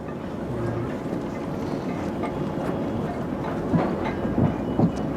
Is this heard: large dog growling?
no